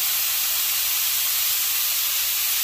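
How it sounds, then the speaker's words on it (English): Ground meat browning in a Ninja Possible Pan gives a steady, dense sizzle that holds at an even level throughout, close by and with no talk over it. "able to brown that meat"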